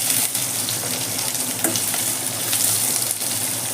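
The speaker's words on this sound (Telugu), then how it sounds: "ఉల్లిపాయలు వేసుకుందాం." Onions hit hot oil in a pan for a brinjal gravy, giving a loud, continuous crackling sizzle close by with a few sharper pops and spatters throughout.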